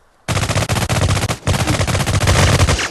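Gunfire in a realistic mobile first-person shooter game, loud sustained rapid automatic bursts with a brief gap midway, close and dominant throughout.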